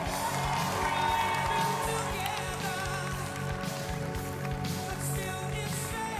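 A crowd at a Japan Expo 2023 cosplay show roars and cheers steadily at moderate volume, with scattered whoops and clapping mixed into the dense wash of voices.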